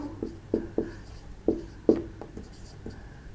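Pen writing a fraction by hand during a maths lesson, a few soft scratchy strokes and taps spaced irregularly, close and quiet.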